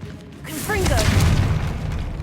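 A Confringo fire-spell explosion in Hogwarts Legacy: a deep, swelling boom with a crackling roar that rises quickly and sustains near and loud, with a voice briefly speaking over the start.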